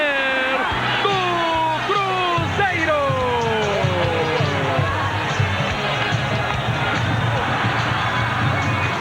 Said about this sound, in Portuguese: Pequenina torcida do Cruzeiro vibrar agora